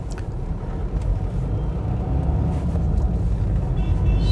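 A used diesel car with a 1.6-litre engine is driven, giving a steady, close rumble of engine and road noise that swells slightly as it moves along, with no talking.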